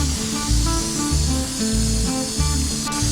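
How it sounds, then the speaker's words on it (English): A sailboat hauled out in a boatyard is sprayed down, its hull wet with barnacles, with loud repeated hissing bursts in an uneven rhythm over a low droning motor, and no talk. "Okay, now I'm just going to spray it."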